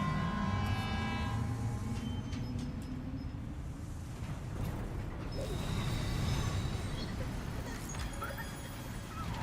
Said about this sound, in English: About to take our first monorail ride.